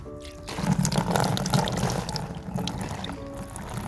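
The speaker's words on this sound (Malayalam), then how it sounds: "നമുക്ക് ഇതിൻ്റെ മുകളിലൂടെ നമുക്ക് വെള്ളം ഒഴിച്ചു കൊടുക്കാം" Water from a bucket splashes and pours steadily onto cocopeat for several seconds, a close, continuous gush that tapers slightly toward the end.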